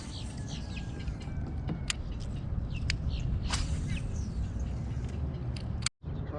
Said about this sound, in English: So you'll hear a lot of bird chatter while we're back here.